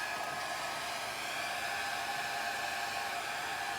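A hair dryer blows steadily over wet fluid art paint, a constant close whooshing hiss with no change in pitch and no talking.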